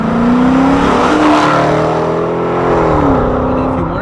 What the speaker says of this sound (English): This car, the only modification is some aftermarket mufflers